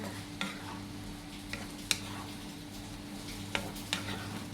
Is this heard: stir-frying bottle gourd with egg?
yes